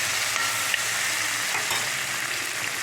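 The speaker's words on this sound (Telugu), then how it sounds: "ఇవి ఇలా వేగుతూ ఉండాలండి." Green chillies frying in a pan for spicy chutney, a steady close sizzle with light stirring scrapes running throughout, no voices.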